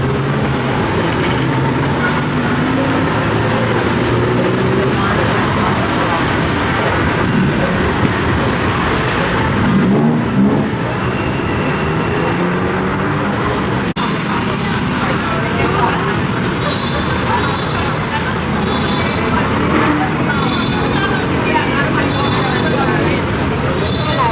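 Heavy street traffic in Thailand near a shopping area, with a steady roar of buses and cars passing close by and a continuous loud road hum throughout.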